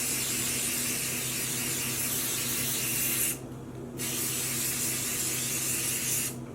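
Spray bottles mist dye onto knitted sock blanks in a steady, close airy hiss that pauses for about half a second before the spraying starts again. No one speaks.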